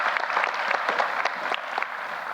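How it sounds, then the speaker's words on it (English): Hearty audience applause for Derek at a university investiture ceremony, a full, steady clatter of many hands clapping, sustained and moderately loud throughout. "Let's give Derek another hearty round of applause."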